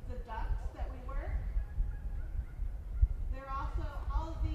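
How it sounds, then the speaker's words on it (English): Small call duck hens give several honking quacks in two bursts, near and moderately loud, with quieter ambient noise between them. "These are call ducks, so they're littler than some other breeds of ducks that we work."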